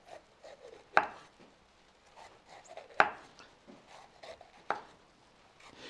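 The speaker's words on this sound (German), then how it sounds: "Deshalb schneiden wir da jetzt noch ein paar dünne Scheiben ab." A knife cuts thin slices of bell pepper and tomato on a board, three sharp distinct chops spaced about two seconds apart, with softer slicing and rubbing between them, close and alone.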